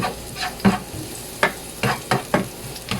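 Minced red onion sautés in a hot pan with a soft frying sizzle. A spatula scrapes and stirs in about half a dozen sharp, close strokes at an uneven pace, and there is no talking.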